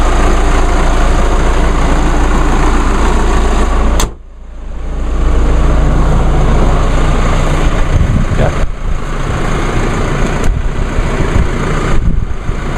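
A Chevy Colorado or GMC Canyon diesel pickup idles with a loud, steady low rumble that briefly drops away after a sharp click around a third of the way in, then resumes and runs on, with a few faint knocks.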